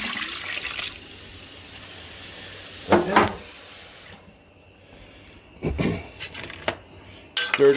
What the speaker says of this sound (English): Stir it again just to make sure nothing's stuck to the bottoms.